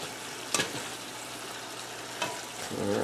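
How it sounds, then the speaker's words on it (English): Taco meat simmers in a pan with a soft, steady sizzle, quiet and close, broken by two brief clanks of a utensil against the pan and a rising clatter at the end. "I'll just let this simmer some more while the shells are cooking"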